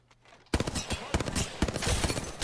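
Gunfire in the video game Apex Legends, rapid bursts of shots starting abruptly and continuing in dense clusters, loud and close, with a voice briefly heard among them.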